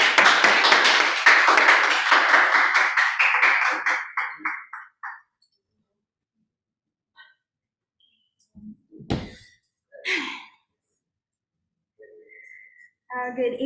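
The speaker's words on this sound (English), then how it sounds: "Let's give her a round of applause." Audience at a Toastmasters club evening breaks into loud, sustained applause with a few whistles for the meeting's timer; the clapping thins out and stops after about five seconds, leaving near silence with a few faint knocks and brief voices.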